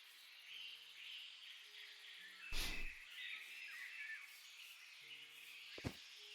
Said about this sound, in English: So many bird noises.